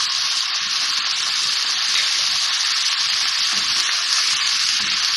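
Chicken chow mein ingredients fry in a hot pan with a steady, loud, dense sizzle that holds evenly throughout, with no voices over it.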